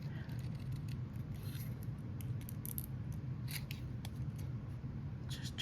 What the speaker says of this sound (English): let me fussy cut the rest of these